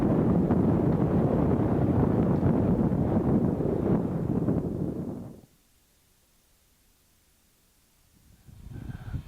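Gusty wind blasts across the microphone on the breezy, cool summit of Mt Casey, a loud rushing roar that drops away to near silence for a few seconds before picking up again.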